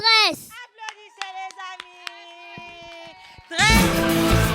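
Short burst of clapping from children and an audience at a school presentation, heard after a sung or chanted voice with held tones, the clapping entering loud and dense near the end.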